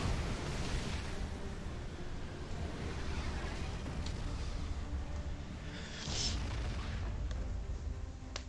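Dull rumbling blasts and explosions in the strategy video game Supreme Commander as a combat commander is caught among T2 units, a continuous distant boom and roar with a stronger burst near the end.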